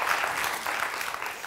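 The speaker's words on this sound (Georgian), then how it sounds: "მოდი, გენადის კარგი აპლოდისმენტები მიუძღვნათ." A studio audience at a comedy contest show applauds a contestant named Genadi with brief, steady clapping of moderate loudness and no break.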